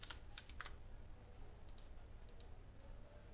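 Faint typing on a computer keyboard, scattered soft key clicks in small clusters over a low background hum, with no speech.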